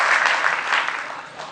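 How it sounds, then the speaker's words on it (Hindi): Brief burst of audience applause at an award ceremony, a dense, even patter of many hands clapping that fades slightly toward the end. "तालियां बजाइए इनके लिए."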